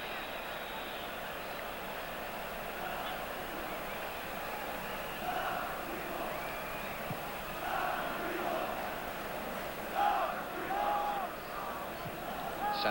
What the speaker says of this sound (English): derisive shouts from the crowd as Hatzibegic's free kick goes way over Shilton's crossbar